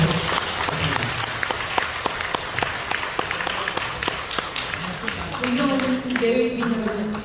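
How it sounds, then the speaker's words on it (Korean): Applause from the audience at an international academic forum in a hotel hall, dense steady clapping lasting throughout and rising slightly toward the end, with some voices underneath. "모두 박수로."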